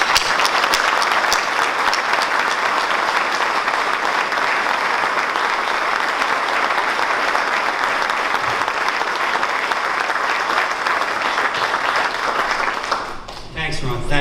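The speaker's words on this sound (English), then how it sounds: "Join me in a round of applause for the Rays." Audience at a baseball stadium plan unveiling for the Rays breaks into dense, sustained applause for about thirteen seconds, steady and full, before it cuts off abruptly.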